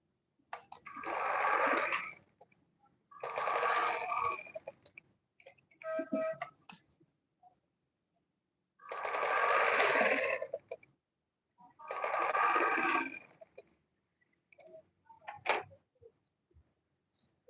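A sewing machine stitches an Ankara gown in five bursts of a few seconds each, with short pauses between runs and a sharp click near the end, close and clear with no talking.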